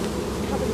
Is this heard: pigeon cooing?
no